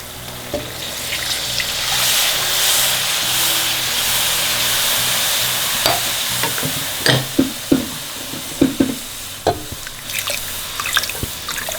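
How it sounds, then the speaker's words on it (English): Steady hiss of masala frying in a pan for stuffed brinjal curry, with occasional crackles and pops, followed by a series of clinks and scraping stirs. "now fry this masalas for at least 4 to 5 minutes"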